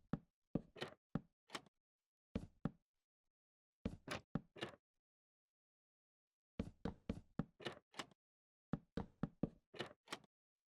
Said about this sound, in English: And we can add in trapdoors on either side of the upper doors as well.